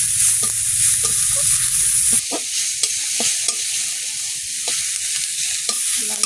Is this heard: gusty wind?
no